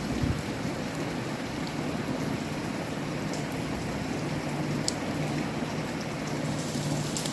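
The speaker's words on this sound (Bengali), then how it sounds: "এখন একটু সেই হাওয়ার পরিমাণটা কমেছে যদিও বৃষ্টি চলছে" Steady rain with a gusting wind outdoors in West Bengal, a dense continuous hiss with low rumbling wind noise, no voices.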